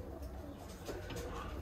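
Roller pigeons coo softly in their loft, a faint, steady murmur of low burbling calls with no clear gaps, heard close but quiet.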